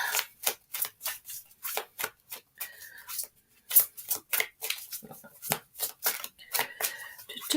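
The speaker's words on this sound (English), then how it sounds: "people like me to shuffle when we're playing cards" A deck of playing cards is shuffled over and over in quick, crisp riffling bursts with short gaps between them, close to the microphone.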